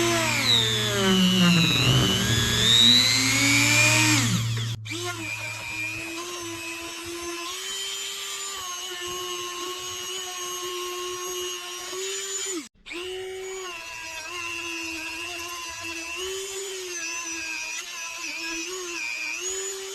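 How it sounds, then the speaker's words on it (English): A power tool fitted with a fiber brush, then a polishing pad, works on a part from a 1955 Willys Jeep CJ-5, giving a continuous high whine that shifts pitch as the load changes, with one brief cutout. "starting with that fiber brush and then polishing it after that"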